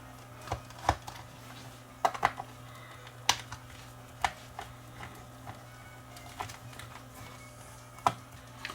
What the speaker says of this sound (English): let's just pop this unit apart